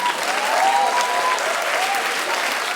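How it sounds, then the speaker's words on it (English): Audience applause at a media talk, a dense, loud burst of clapping filling the room, with a faint whistle or cheer rising above it. "you guys need to give yourself a round of applause for sitting here on a Saturday"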